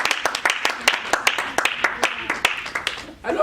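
A congregation claps in a steady, brisk rhythm through a church service, the sharp hand claps close and fairly loud. A burst of voices rises near the end.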